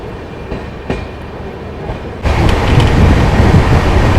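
The KSR Bengaluru–Hubballi Janshatabdi Express pulls out of a station. A quieter stretch with a few knocks gives way suddenly to a loud, close, continuous rolling rumble of the carriages on the rails.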